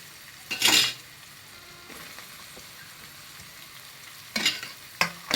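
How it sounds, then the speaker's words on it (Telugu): Cabbage and capsicum fry and get stirred in a pan at home, soft sizzling beneath louder bursts of scraping and tossing near the start and toward the end. "క్యాప్సికం కూడా కొంచెం వేగాల"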